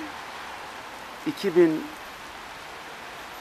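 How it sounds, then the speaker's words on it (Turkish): Rain falls in Famagusta, Northern Cyprus, as a soft, steady hiss in the background, with a brief spoken voice rising above it midway. "bugün de çok şükür Magusa'da iyi bir yağış başladı."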